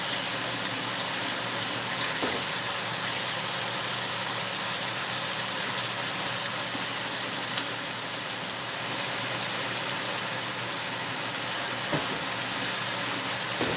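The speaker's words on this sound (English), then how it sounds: "Wash my hands again." Tap water running steadily while hands are washed in a kitchen: continuous, even hiss-like rush of water, close and unbroken throughout, with a couple of faint knocks and no talking.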